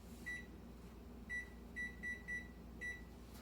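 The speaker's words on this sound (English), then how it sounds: "So I'm going to set the timer for 30 minutes." A kitchen timer being set for 30 minutes while white bread bakes in a Dutch oven, giving a series of short electronic beeps: one, then a pause, then a quick run of four, and a final beep, over a low steady hum.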